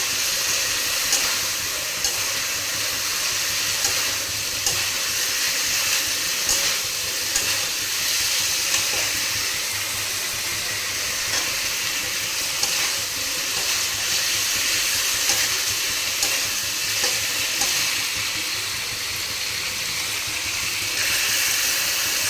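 A whole tomato goes into a frying egg curry masala, and a steady hissing sizzle continues for a long stretch with faint scattered clicks and stirring noises, close and even in level.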